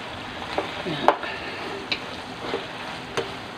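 Pork or chicken estofado with saba banana cooks in a pan, giving a steady close sizzle broken by a few sharp clinks and scrapes of stirring, with no one talking.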